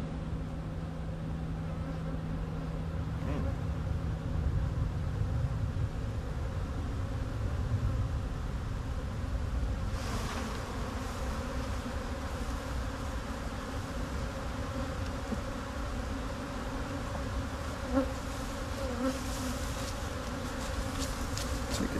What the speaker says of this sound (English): Make sure the queen's not on here before I brush these bees off.